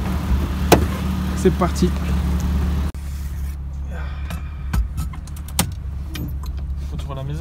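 Idling engine of a tuned, reprogrammed BMW E36 three-door saloon, a steady low rumble with small revs and clicks, a short louder stretch giving way to a quieter interior hum, with a voice speaking briefly.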